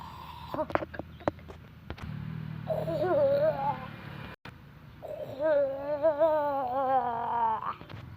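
A voice mimics a lion's roar in two drawn-out, wavering growls, preceded by a few sharp clicks and a brief low rumble.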